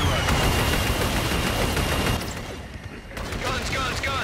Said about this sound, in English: Inbound for gun run.